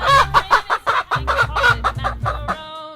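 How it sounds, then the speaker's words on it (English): A chicken clucks in a quick series of about ten short, choppy calls at close range, ending on a drawn-out higher note. "Chicken."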